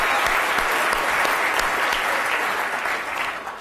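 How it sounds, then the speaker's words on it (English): Audience applause for a theatre cast after a performance of Loserville, a dense, steady wash of many hands clapping at close range, holding strong for nearly four seconds before easing slightly at the end. "will you please give a round of applause to the cast of Loserville"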